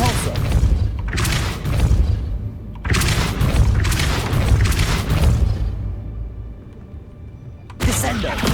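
Depulso spell blasts in Hogwarts Legacy come through as loud, deep booming bursts with rumbling low end, several in a row separated by short lulls, under bits of voice.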